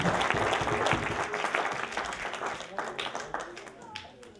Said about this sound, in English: everybody's spontaneously breaks into applause.